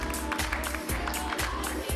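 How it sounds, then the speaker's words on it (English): Sustained clapping from the audience at an evening District 1 community meeting, a dense, continuous patter of many hands held at a steady level throughout. "So that's another round of applause."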